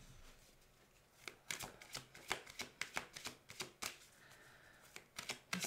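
Tarot cards are being shuffled by hand for an astrology reading. A quick run of dry card flicks and riffles comes close and fairly soft, with brief pauses between bursts and no talking.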